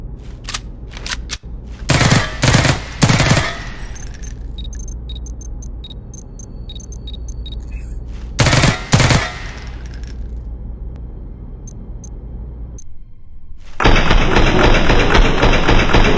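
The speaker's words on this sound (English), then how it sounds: "We get a little bit of sound of ricochet and things like that on the barrels" Gunfire in the VR game ARES built with Roblox: two loud close bursts of rapid shots with ringing ricochet pings between them, then a hissing wash of sound at the end.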